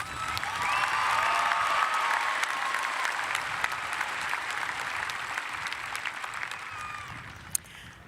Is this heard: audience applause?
yes